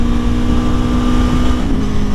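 A 2021 Aprilia Tuono motorcycle rides through San Diego in third gear, giving a steady, loud engine drone with buzzing harmonics over rushing wind noise. There is no talking.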